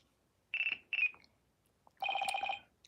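Electronic phone ringtone in the video game Apollo Justice: Ace Attorney, two short chirping bursts followed by a longer trilling ring, clear and alone.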